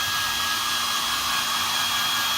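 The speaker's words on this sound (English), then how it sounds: "So dry it with a hairdryer, regular hairdryer." A regular handheld hairdryer runs steadily and loudly throughout, a constant broadband whoosh with a faint motor whine, used for drying flash paper, cotton, wool and string.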